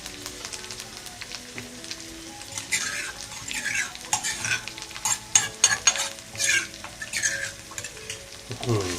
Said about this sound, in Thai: ผัดพริกแกงให้หอมก่อนเลยนะครับ